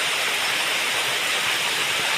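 Steady early-morning rain falls as a dense, even hiss with no breaks and no voices.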